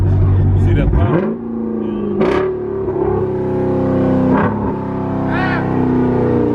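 A muscle car fitted with nitrous and a loud aftermarket exhaust revs hard close by at a muscle car night in Memphis, its engine drone rising and falling steadily throughout, with people talking over it.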